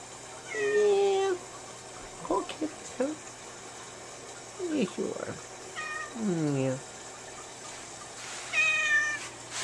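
A cat meows repeatedly, several drawn-out calls spread across the stretch, each fairly close and clear, with a person talking to it in between and some light background clatter.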